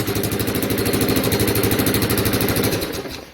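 Honda ATC200e three-wheeler with a rebuilt engine and an exhaust leak runs close by, a steady rapid putting and ticking pulse at idle that stays loud and even, fading slightly at the end.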